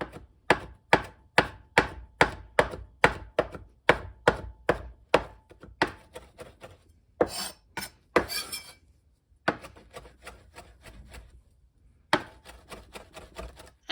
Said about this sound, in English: I just chopped up some fresh English thyme and some fresh parsley